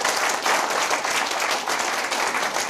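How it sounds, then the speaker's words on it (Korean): An audience at a humor lecture claps together in a steady, dense burst of applause, even and continuous throughout at moderate loudness, with no talk over it. "박수 한번 치고 시작할까요?"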